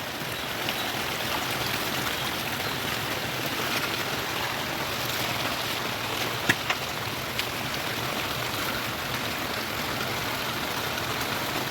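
Water rushing steadily down a freshly cleared street drain, a continuous broadband wash with a few small splashes, even and close throughout.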